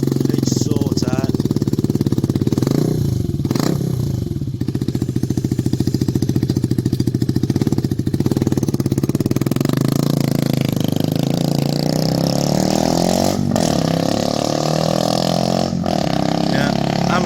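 A Benelli 125 TNT Tornado Naked motorcycle engine runs loudly nearby with no exhaust fitted, a steady, buzzing idle broken by a few sharp revs; voices talk briefly over the engine.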